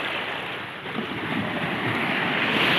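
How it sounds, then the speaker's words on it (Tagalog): A strong water current rushes around a boat as a broad, continuous roar of churning water and wind buffeting close by, steady and loud without talk. "Ang lakas ng agos."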